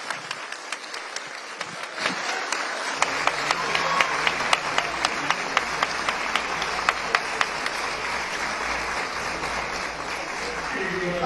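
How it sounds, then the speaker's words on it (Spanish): Applause spreads across nearly the whole chamber of Peru's Congress as the presidential sash is presented, a dense sustained ovation with scattered louder sharp claps standing out throughout. "entre palmas de casi todo el hemiciclo"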